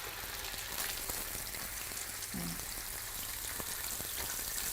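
Salted eel pieces grilling skin-side in a hot pan, a dense, steady close sizzle and crackle throughout with no talking.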